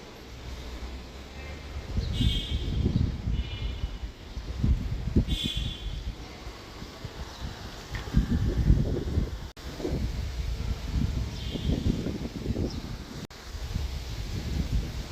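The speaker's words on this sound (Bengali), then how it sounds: "অনেক বাতাস হচ্ছে" Strong wind blows outdoors at a house in Gulshan 1, buffeting the microphone in repeated loud rumbling gusts, with occasional faint bird chirps in the background.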